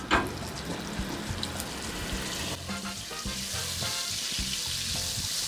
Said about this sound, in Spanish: Le voy a poner 2 cucharadas de margarina.